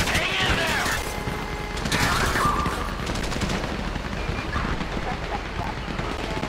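Automatic weapons fire in a Grand Theft Auto 5 firefight, with dense bursts near the start and then lighter scattered shots and mechanical clatter, while voices talk over the action.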